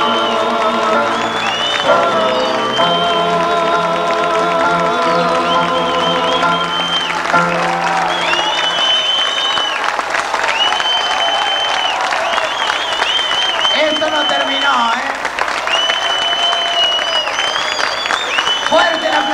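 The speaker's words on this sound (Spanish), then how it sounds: "fuerte el aplauso." Applause and cheering from a crowd at a tribute night, mixed with music and voices, sustained and loud throughout with singing-like tones over the clapping.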